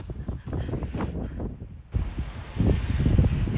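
Strong wind gusts buffet the microphone at a harbor on Geoje island, rough rumbling blasts that rise and fall unevenly with a louder surge near the end.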